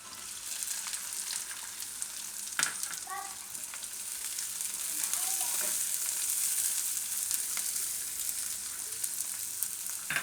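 Onions sizzle in a pan with green chillies and ginger while cheese rice is being made, a continuous close frying hiss with a few light stirring scrapes and no talking.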